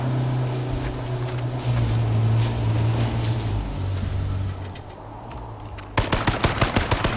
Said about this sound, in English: Moe's World firing more shots into Crank